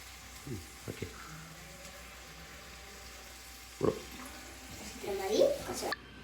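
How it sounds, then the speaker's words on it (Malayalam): Water is poured into a pan of chicken curry that has started to catch on the bottom. It gives a brief splash, then a louder sizzling hiss near the end, with people talking throughout. "സുഖേശിനി കുറച്ച് വെള്ളം."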